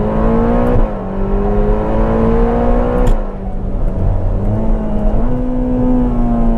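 A Ferrari Roma Spider engine accelerating hard, loud and close, with a rising roar that climbs through the gears in distinct steps between shifts, alone without talk.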